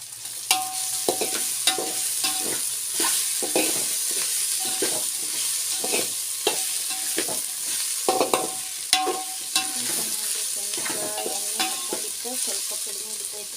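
Cut potatoes fry in oil for a pulao, with a loud continuous sizzle broken by frequent sharp scrapes and clicks of a spoon stirring the pan.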